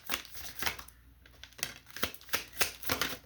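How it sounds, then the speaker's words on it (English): A deck of playing cards is shuffled during a tabletop card game, giving a few quick, papery riffling bursts at moderate volume with short pauses between them and no voices. "One shuffle, or maybe two."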